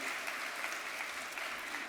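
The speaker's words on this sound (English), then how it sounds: "Just one more round of applause to everyone for sharing." Steady audience applause at a graduate orientation for presenters, a dense continuous patter of many hands, moderately distant and even in level.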